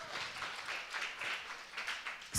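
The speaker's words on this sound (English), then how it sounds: "You can give me a hand of applause." Audience at a He for She project launch applauding, a soft, steady patter of many hands clapping, fairly distant and faint, ending in a sudden louder burst.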